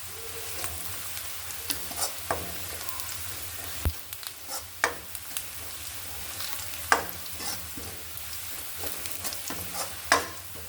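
Whole cumin seeds fry in hot oil with a continuous close sizzle, broken by irregular sharp clicks and scrapes of stirring.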